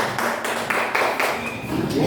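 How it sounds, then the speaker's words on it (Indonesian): Students in a school classroom clap for a group during a project activity, a dense run of hand claps lasting about two seconds, fairly close and steady, with voices mixed in. "Tepuk tangan untuk kelompok 2"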